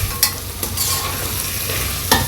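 Onions, mint, coriander and tomatoes sauté in a hot pan with a loud, continuous sizzle, broken by a few sharp stirring scrapes of the spoon.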